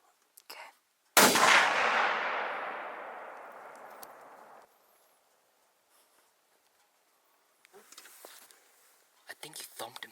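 A single loud rifle shot cracks during a mule deer hunt in Utah, ringing out and echoing for a few seconds before fading, followed later by faint rustling and quiet voices.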